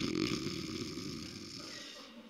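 A storyteller imitates a man's snoring with his voice, producing a close, sustained rasping snore that fades toward the end.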